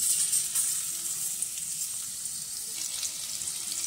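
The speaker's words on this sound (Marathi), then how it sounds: "आता या तेलामध्ये आपण ठेचलेलं लसूण घालून घेऊ।" Crushed garlic sizzles loudly in hot oil in a pot for an Indian curry, a steady bright frying crackle throughout with no talk.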